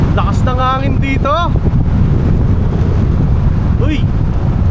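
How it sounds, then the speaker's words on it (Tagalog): Strong wind at a Boracay beach buffets the microphone with a constant low roar, while people talk and exclaim over it at the start and again near the end. "Lakas ng hangin dito."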